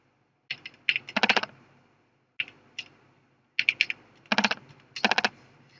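Someone types a CNIC number on a computer keyboard in quick clustered bursts of close, crisp keystrokes, with short pauses between groups and no talking.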